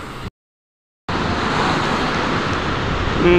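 Big sea waves roar steadily at the shore in Bucana, a broad continuous wash of surf after a brief cut to silence, with wind noise blending into the surge.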